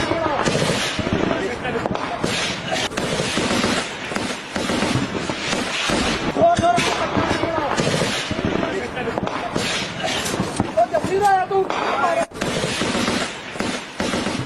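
Cross-border firing from border posts during a ceasefire violation, with shots coming from the Pakistani side on the ninth straight day: dense, repeated bursts of gunfire crackle under continuous news narration.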